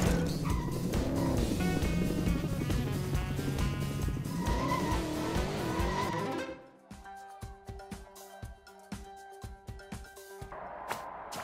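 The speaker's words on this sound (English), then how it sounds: "Drive into the start zone next to Clutch." A car racing in LEGO 2K Drive, with engine and tire squeal heard under a loud game music track that cuts out partway, leaving sparser driving and skidding sounds.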